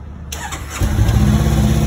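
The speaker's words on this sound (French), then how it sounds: "Donc, la moto, je l'allume." A motorcycle engine cranks and catches, a brief starter whir bursting into a loud, close, steady idle.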